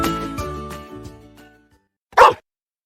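A single short, sharp dog bark sounds once, close and clear, after a stretch of tonal background sound that fades to silence.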